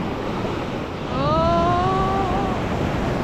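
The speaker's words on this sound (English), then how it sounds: "Waves are getting very big indeed." Big ocean waves roll and wash at San Pancho beach, a continuous broad surf noise with wind buffeting, while a faint voice or whistle-like tone rises briefly in the middle.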